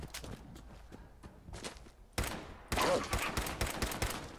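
Rapid bursts of gunfire in the video game Fallout 4 crackle in quick succession, growing louder partway through, with sharp repeated shots and clattering impacts.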